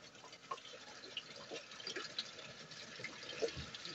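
Water poured into the tank of an air cooler during cleaning, soft trickling and splashing with scattered drips, faint and close, no talking.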